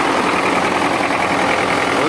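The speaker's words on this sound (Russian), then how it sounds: "Ну вот, мужики, завел я трактор с радиатором." A DT-75 crawler tractor engine idles steadily up close, a constant loud rumble with no pauses, just started after a new radiator was fitted.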